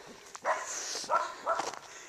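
A puppy outdoors near a field gives a few faint, short yips and barks in quick succession over low background noise.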